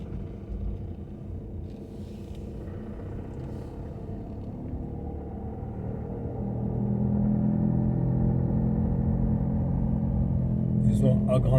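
A car engine rumbling steadily while driving through a town and making a U-turn, a continuous low drone that swells louder partway through.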